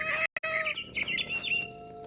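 Chirping, clucking calls from a mama bird in the video game What Remains of Edith Finch, high and tonal, rising and warbling over about two seconds after a short silent break near the start.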